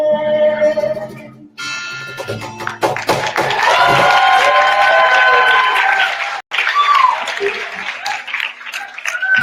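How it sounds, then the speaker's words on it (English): Conference audience at Victoria University in Toronto applauding amid music: clapping and taps rise and swell into a sustained burst with a tonal, singing-like melody over it, dropping out briefly near the end before resuming loudly. "Let's have another round of applause."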